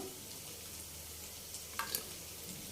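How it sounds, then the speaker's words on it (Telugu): Dried prawns frying in a pan, a steady low sizzle throughout with a brief scrape of stirring near the end. "ఇంకొక 2 నిమిషాలు ఇదే విధంగా చక్కగా ఫ్రై చేసుకోవాలి."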